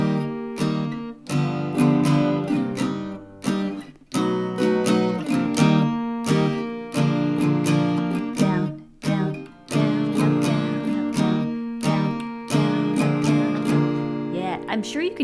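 Acoustic guitar strumming the chords of a song in a steady down-up pattern, close and bright, with short gaps between strums and no voice.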